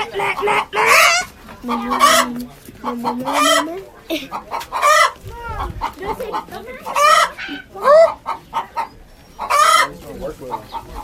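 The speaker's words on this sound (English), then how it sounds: "We got chickens." Chickens cluck loudly and repeatedly up close, with a rooster crowing among the bursts of squawks and calls.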